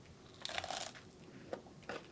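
A crunchy canelé pastry bitten into and chewed close up, with a few crisp crackling bites spread over two seconds and no talking.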